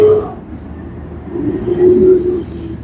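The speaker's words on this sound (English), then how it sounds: "garbage truck." Garbage truck passing nearby on a hot night street, a loud low engine rumble that swells and fades over a few seconds, heard alone without talk.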